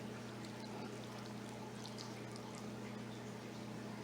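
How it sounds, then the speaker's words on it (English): Water poured over a freshly repotted ruby cascade plant, draining through the soil: a steady, continuous pouring and trickling wash, close and even throughout with no voices, over a constant low hum. "as long as you are getting a good drain when you are watering your plants"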